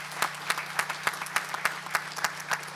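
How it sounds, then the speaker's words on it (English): A crowd claps at a ceremonial groundbreaking in a steady patter, individual claps audible at a fairly even rhythm, moderately loud and continuing throughout. "a lot of round of applause"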